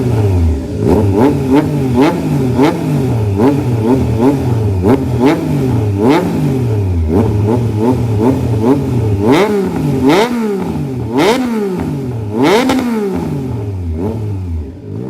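A Triumph Trident 660 motorcycle fitted with a full exhaust system revs loudly and repeatedly up close, each blip climbing sharply and falling back to a burbling idle.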